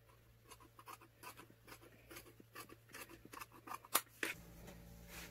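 Scissors snipping through fabric while cutting a 6 cm strip for a hanbok see-through blouse, a run of close, crisp snips with a couple of sharper cuts near the end, no talking.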